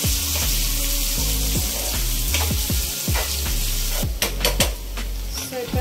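Tomatoes fry in a pan with a constant close hiss and crackle while a utensil repeatedly scrapes and clinks against the metal in an irregular stirring rhythm.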